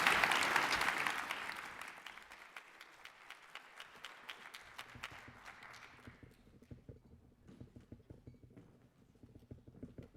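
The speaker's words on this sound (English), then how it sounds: "Please join me in a round of applause." Conference audience applauding a panel at a war-studies event, a loud wash of clapping at first that thins out within a few seconds into scattered, fading claps over a quiet hall.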